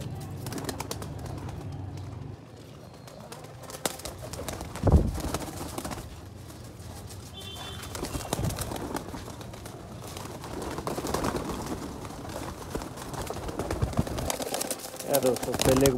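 Soft cooing of Sialkoti pigeons mixed with outdoor ambience and occasional thumps, with people talking intermittently in the background.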